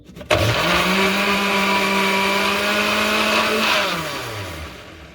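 A blender whirs loudly at steady speed for about three and a half seconds mixing a Herbalife protein shake, then winds down and stops.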